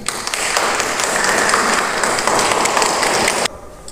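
A crowd at a Caranqui baptism celebration breaks into sustained applause, a dense wash of clapping at steady strength that stops abruptly near the end.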